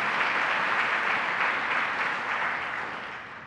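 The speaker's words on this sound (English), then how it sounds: "So let's give a round of applause to our bishop, the chair, YMCA of Central New York." An audience at a New York child care announcement with Gov. Kathy Hochul applauds the YMCA of Central New York chair, a dense, even round of clapping that holds steady and then slowly tapers off.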